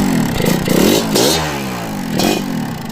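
A Yamaha RX King motorcycle engine revs close by, its pitch rising and falling in several quick throttle blips with no talking.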